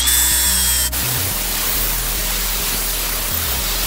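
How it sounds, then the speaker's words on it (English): An angle grinder works a weld on a steel frame tube of a vintage three-wheeler ATV, a steady close broadband grinding roar that runs without a break and shifts slightly in tone as the disc bears on the metal. "So you're just going to grind the weld until you just see it touching the edge of the tube."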